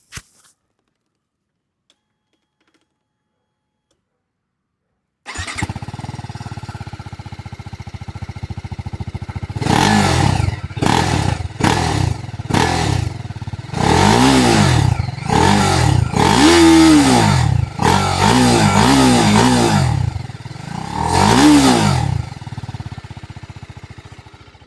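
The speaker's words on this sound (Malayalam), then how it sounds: "അപ്പോൾ എങ്ങനെയുണ്ട് നമ്മുടെ RR310 എക്സോസ് നോട്ട്? വളരെ സ്പോർട്ടി ആയിട്ടുള്ള എക്സോസ് നോട്ടാണ് നമ്മൾ കൊടുത്തിരിക്കുന്നത്." A TVS Apache RR310 sport motorcycle fires up after silence and settles into a steady idle, then gets a series of sharp throttle blips and longer revs with rising and falling pitch, close and loud with no talking.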